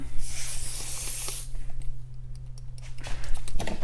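An airbrush sprays out yellow paint onto a T-shirt, a bright steady hiss for about a second and a half, then quiet clicks and handling noises.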